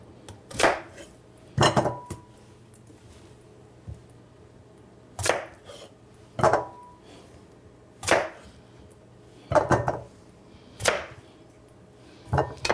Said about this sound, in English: We're going to cut these so that they're reasonable size and it'll go into the food processor